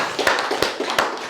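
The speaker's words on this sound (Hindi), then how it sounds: "बहुत ताली आपके लिए।" Audience applause at a gathering of pomegranate farmers, a few sharp, spaced claps and taps rising from a light patter of hands, brief and fairly close.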